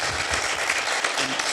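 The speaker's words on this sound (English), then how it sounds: "let's give him a round of applause" A room full of people applauds at a community engagement meeting, with steady, dense clapping held at an even level for the whole stretch and no pauses.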